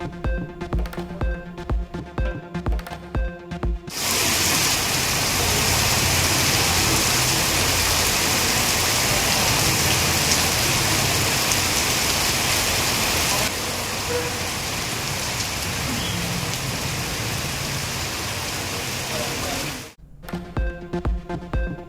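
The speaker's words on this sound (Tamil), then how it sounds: "தமிழகத்தின் பல்வேறு மாவட்டங்களில் பரவலாக மழை." Widespread heavy rain falls steadily across districts of Tamil Nadu, a dense, loud, continuous hiss of rain on surfaces lasting about sixteen seconds, framed by brief music at the start and end.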